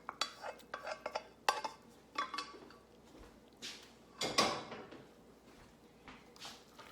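Pasta and cheese being stirred in a bowl, with a series of light clinks and scrapes of a utensil against the dish, irregular and fairly close, with no talking.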